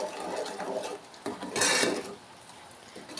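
A spoon stirs sago payasam with sugar in a pot, scraping and clinking against the metal in a few uneven strokes, close and fairly quiet.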